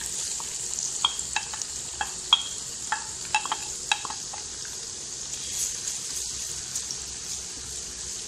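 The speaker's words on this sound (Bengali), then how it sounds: "এখন পেঁয়াজটা ভাজা হবে" Onion frying in cooking oil that was used for beef meatballs, a soft steady sizzle near at hand broken by sharp clinks and scrapes of a spoon stirring the pan, no talking.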